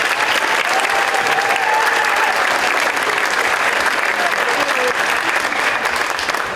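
A crowd at a technical college awards ceremony gives award recipients a steady round of applause, loud and continuous throughout, with faint voices mixed in.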